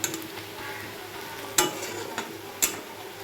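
Onions sizzle softly in a pan, a low steady crackle broken by a few sharp clicks of a utensil against the pan.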